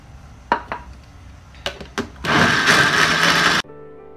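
A few knocks and taps are followed by a kitchen blender grinding rice with water in a loud burst of just over a second that stops abruptly.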